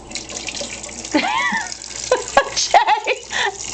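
Tap water runs steadily into a household sink while a cat stands with its head under the faucet, a continuous close splashing stream broken by brief chirpy meows.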